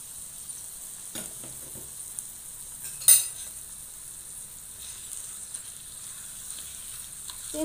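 Tofu snack pieces coated in seasoning are stirred through a low, steady sizzle in a pan, with soft scraping and a single sharp clink of the utensil partway through, no voices.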